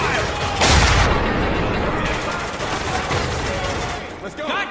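Gunfire in Spec Ops: The Line, a dense, loud fusillade of overlapping automatic bursts and booms, nearly continuous, with shouting voices mixed into the barrage.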